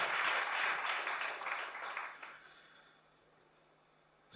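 An audience applauds to welcome Chief Minister Manohar Lal at a gathering with mountaineers, a dense wash of clapping that gradually thins and fades to near silence.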